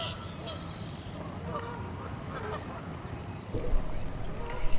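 Talkative geese honk repeatedly beside a river at a fishing park, irregular calls at moderate distance over a busy outdoor background, with a louder burst toward the end.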